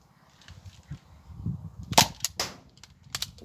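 An X-Shot Kickback Ultra toy blaster fires, its dart smacking into a shed with a sharp crack followed by a couple of quicker knocks, loud and close over a low background rumble.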